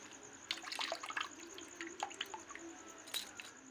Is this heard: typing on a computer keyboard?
no